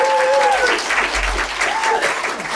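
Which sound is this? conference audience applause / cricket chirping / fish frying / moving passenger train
conference audience applause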